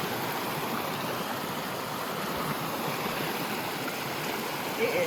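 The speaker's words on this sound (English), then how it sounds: "Second big creek crossing of the day." A big mountain creek crossing on the Appalachian Trail rushes with a steady, close splashing and gurgling flow, continuous and moderately loud, with a small extra splash near the end.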